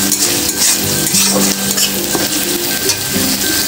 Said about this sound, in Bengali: এবার এর মধ্যে আমি 1 চামচ আদা রসুনের পেস্ট দিয়ে দিলাম। এটাকেও ভালো করে একটু ভেজে নেবো